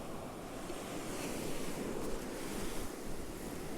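Ocean surf breaking steadily on a Cape Cod beach at night, a dense continuous wash of waves carried on a gusting wind that buffets the microphone.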